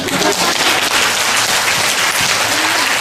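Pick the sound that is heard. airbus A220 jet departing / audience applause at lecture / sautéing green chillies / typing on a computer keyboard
audience applause at lecture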